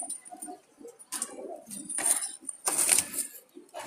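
Two pairs of wild Jalali pigeons cooing in soft, repeated throaty calls close by, with faint rustling and a few light metallic clinks between coos.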